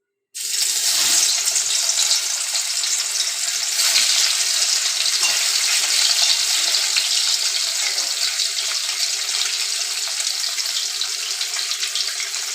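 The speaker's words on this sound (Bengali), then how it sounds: "মাছগুলোকে আমরা একটু লাল করে ভেজে নেব" Loud, continuous crackling hiss of marinated catla fish frying in hot oil until reddened, starting abruptly and holding steady throughout, with no voices.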